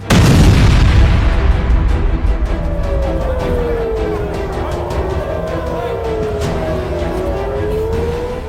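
A heavy, close boom from a missile attack on Tel Aviv opens the sound, then gives way to a long, rolling rumble while a wailing siren slowly rises and falls in the background.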